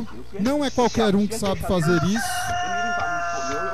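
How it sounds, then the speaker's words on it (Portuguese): A rooster crows loudly and close by in a rural setting, its drawn-out call partly overlapping someone speaking Portuguese, with the crow trailing off clearly at the end. "Olha o galo cantando."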